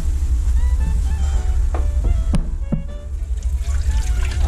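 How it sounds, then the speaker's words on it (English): Coconut milk pours into a pot of curry crab with a continuous liquid trickle over a steady low background rumble, broken by a few brief clinks. "Add the coconut milk here."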